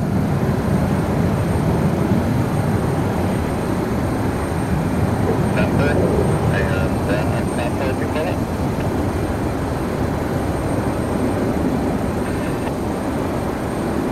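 A Delta Connection airliner taxis at Cleveland Hopkins Airport, its engines a steady broad roar heard from some distance, with people talking over it.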